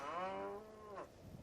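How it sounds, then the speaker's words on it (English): Cattle mooing in the background, a single long drawn-out low call with rich harmonics that fades away, followed by quieter lowing. "No, those are cows."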